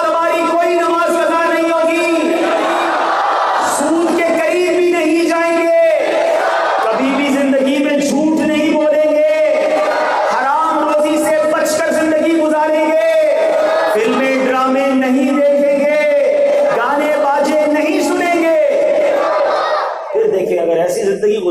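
A large crowd chants religious slogans at an Islamic gathering, loud rhythmic call-and-response phrases repeated in waves of many voices, sustained and close.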